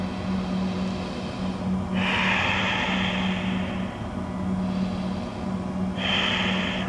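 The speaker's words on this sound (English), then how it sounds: "2 deep breaths here." Slow deep breathing during a home yoga session, two long airy breaths heard close and alone over a steady low background hum.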